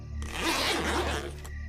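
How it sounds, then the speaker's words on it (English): A tent zipper is pulled down in one continuous, fairly close rasping run of about a second and a quarter, set against a quiet night background. "I heard the sound of the zipper to the tent zipping down."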